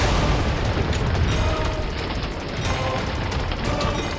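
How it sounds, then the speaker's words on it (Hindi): A loud, dense rumbling blast as a magical protective shield around the amrit treasury bursts apart, sustained roar filling the whole stretch with no quieter pauses. "ये ध्वनि उस अमृत कोशागार के सुरक्षा कवच के टूटने की ध्वनि है।"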